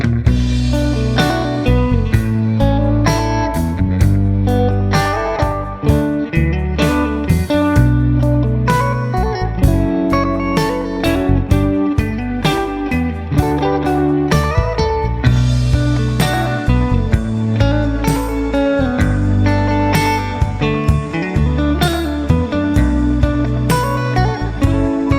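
Electric guitar, basic chords woven with melody notes and hammered embellishments, played loud and continuous for about 25 seconds with a slightly driven tone and no talking.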